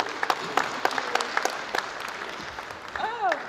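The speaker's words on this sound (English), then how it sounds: "A round of applause for Gokwe there." Audience clapping at a public sector audit awards ceremony, several loud distinct claps at first thinning into lighter scattered applause, with a brief voice and a rising tonal sound near the end.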